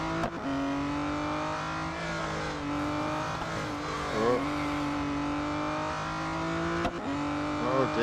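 An Aston Martin Vulcan AMR Pro in Real Racing 3 tears through an autocross at Dubai's international circuit, its engine holding a steady high-pitched snarl with shifting revs and a few gear changes throughout.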